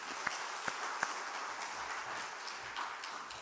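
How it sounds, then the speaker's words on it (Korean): A church congregation claps for its praise team after a performance, a fairly faint, scattered applause with a few sharper individual claps standing out, no talk over it. "우리 박수 한번"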